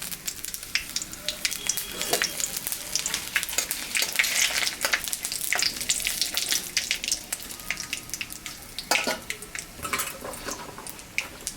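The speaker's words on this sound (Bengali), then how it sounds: "জিরা আর শুকনো লঙ্কা সম্বরা দিলাম।" Cumin seeds and dried red chillies sizzle and crackle in hot mustard oil in a kadai, with a steady close fry and scattered sharp pops, at a moderate level, with no talk.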